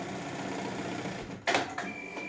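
Sakura Stitch sewing machine running a programmed stitch design, a steady even mechanical whir with a brief louder clack near the end, close and without talk.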